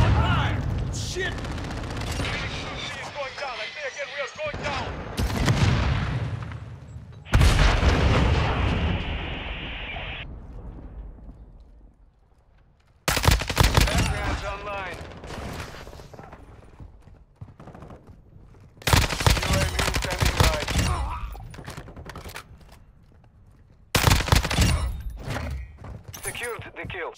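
Call of Duty Modern Warfare 2 (2022) gunfire: loud sharp bursts and shots that each decay into a long echoing tail, arriving in clusters separated by quieter gaps, with some voices.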